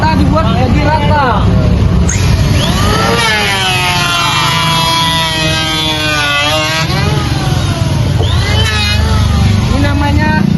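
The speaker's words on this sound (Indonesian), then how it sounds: "Ini namanya mesin tetap. Inilah untuk meratakan kayu biar rata." A stationary wood planing machine flattens timber in a door- and window-frame workshop, a loud, continuous mechanical whine whose pitch bends up and down as the wood feeds through, with a person talking over it.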